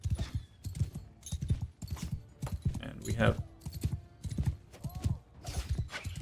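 Rhythmic hoofbeats of a galloping horse in the Mount & Blade II: Bannerlord game, a steady clip-clop pattern repeating throughout under a man's speech.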